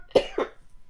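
A woman coughs twice in quick succession into her elbow, two short, fairly close bursts within half a second against a quiet room.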